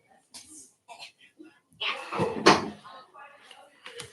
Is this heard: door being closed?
yes